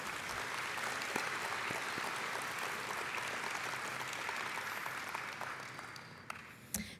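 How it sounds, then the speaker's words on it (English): A crowd applauds steadily at the SIGGRAPH awards opening ceremony, a dense wash of clapping that holds for several seconds before thinning out toward the end, heard from a slight distance. "Please join me in giving them a round of applause for a job well done."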